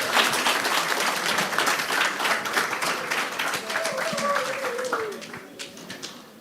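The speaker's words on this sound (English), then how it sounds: "Please, let's give them a round of applause till they are seated." Audience at a young professionals' petroleum engineering workshop in Africa applauding a finalist team, dense continuous clapping that thins out toward the end, with some voices mixed in.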